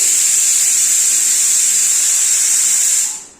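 A pressure cooker boiling lentils lets out one long, loud, steady whistling hiss that holds for about three seconds, then fades quickly.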